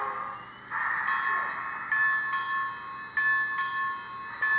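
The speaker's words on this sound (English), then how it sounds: "we can let our locomotive take off" Model railway locomotive pulling away on a layout, a steady hissing rumble with bright tonal whines that swell in several stepped surges, close and continuous.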